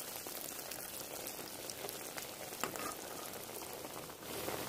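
Aloo palak breakfast sizzles in a pan as its second side browns, giving a steady, dense crackle with soft popping that runs throughout at even loudness.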